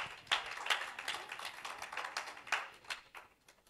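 A congregation clapping hands during a church worship and discipleship session, faint scattered claps with a loose rhythm at a distance.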